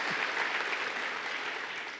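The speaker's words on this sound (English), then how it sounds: "Please give all of them a round of applause for making this happen." Audience at an awards ceremony gives sustained, dense applause, an even wash of clapping from a full room with no voices on top.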